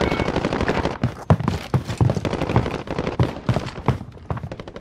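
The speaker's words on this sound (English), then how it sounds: "Yeah, they shooting from the east." Rapid gunfire from the video game Warzone, with dense machine-gun bursts and single shots crackling in a steady, overlapping stream across the whole stretch, loud and close, with faint game ambience underneath.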